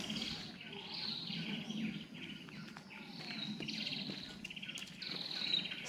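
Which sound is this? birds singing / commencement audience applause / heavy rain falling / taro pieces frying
birds singing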